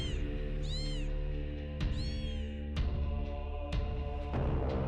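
Video-game cat meows repeatedly up close in a Hello Kitty themed Trench Crusade match, several drawn-out, rising and falling cries over a constant electronic hum with sharp clicks between them.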